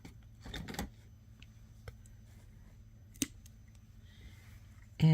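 Snips of bracelet wire being cut with a small cutter, a few brief faint clicks spaced across a quiet stretch, ending in a louder knock.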